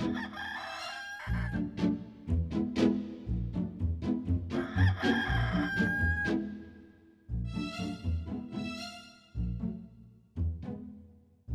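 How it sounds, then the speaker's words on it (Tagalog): A rooster crows repeatedly amid loud, dense background sound, several long cock-a-doodle-doo calls following one another with short gaps, fairly close and prominent, in a Filipino Lenten television special. "Nagkataon lang na pumasok yung tilaok."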